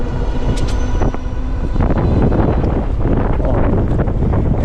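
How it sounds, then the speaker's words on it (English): Strong wind buffets the microphone during a ride on a RAEV GTX cafe racer electric motorbike, a loud continuous roar of gusts that swells and surges throughout with no talking. "the wind is blowing and I feel like it will swipe me off the bike"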